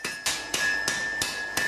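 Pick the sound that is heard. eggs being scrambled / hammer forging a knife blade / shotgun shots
hammer forging a knife blade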